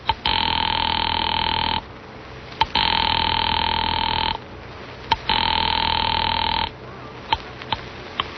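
An old-fashioned telephone rings in a 1940s radio suspense drama, giving three long electric bursts separated by short pauses, loud and close with no talk over it.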